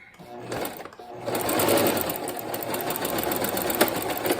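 A sewing machine doing straight line quilting on marked strips, its motor winding up into a continuous, close, even stitching drone after a couple of short starts.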